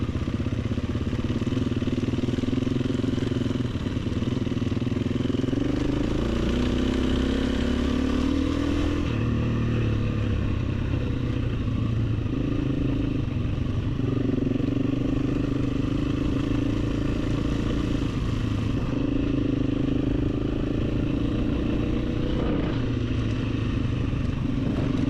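Enduro motorcycle riding off-road across Mongolian terrain, engine droning and shifting pitch as it accelerates and eases off, with rattling clatter and scraping from the rough ground throughout, no voices.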